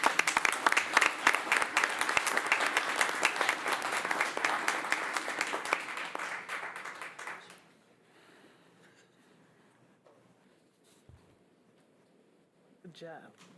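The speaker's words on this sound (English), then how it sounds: "Please give a round of applause" Audience applause at a school board of education meeting, a steady burst of many hands clapping for about seven seconds before fading out, followed by quiet room tone and a brief faint sound near the end.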